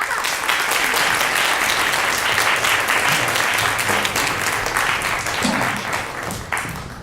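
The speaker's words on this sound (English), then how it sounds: "help me bring this brilliant scholar to the stage with a warm round of applause" A lecture audience gives a warm, sustained round of applause welcoming a pirate historian scholar to the stage, loud dense clapping filling the room steadily for several seconds.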